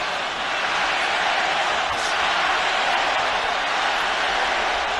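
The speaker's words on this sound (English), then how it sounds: "Crowd are getting into it." Boxing arena crowd at a Golovkin versus Alvarez fight, a steady dense roar of cheering and chatter that holds at an even, loud level throughout with no single voice standing out.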